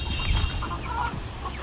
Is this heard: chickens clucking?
yes